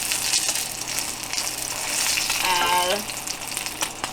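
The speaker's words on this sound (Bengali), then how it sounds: "আর এটা একটু কড়া ভাজি দিলাম" Hilsa fish frying crisp in hot oil gives a loud, steady sizzle close by, and a brief spoken word sits partly over it.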